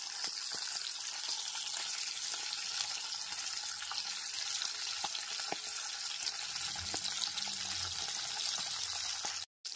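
Pabda fish frying in oil in a pan, a fainter steady sizzle with scattered small pops and a low rumble partway through, ending in a sudden cut.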